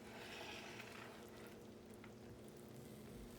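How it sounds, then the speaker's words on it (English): Churro dough of flour and vanilla is worked with a spoon in a bowl, a soft, steady scraping and churning that runs quietly and continuously with no talk. "I'll stir this up."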